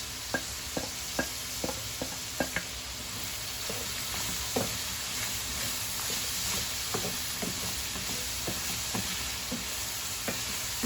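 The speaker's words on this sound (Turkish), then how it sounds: "Kızartacağım bu taraftan." Steady sizzling of peppers frying in a pan, with scattered sharp pops and clicks of stirring, close and fairly quiet.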